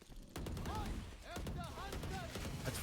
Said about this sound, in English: You're walking into gunfire and a whole lot of it at that